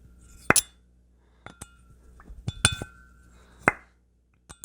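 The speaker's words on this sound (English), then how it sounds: "listen to how tight these valve guides are." Valves slide and knock in tight valve guides on a Suzuki Vinson ATV cylinder head during a rebuild, giving sharp metallic clinks and taps in irregular bursts, close up with no talking.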